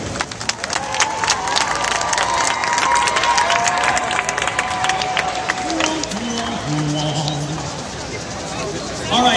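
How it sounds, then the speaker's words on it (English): A live audience at a Ringling Brothers circus stage show claps and cheers, a sustained wash of applause and crowd noise, with a voice talking over it and a few tonal cries. "would you please give a big round of applause for these four participants?"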